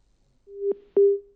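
A dropped phone call gives way to two short electronic busy-tone beeps, loud, clean and steady, with a brief gap between them.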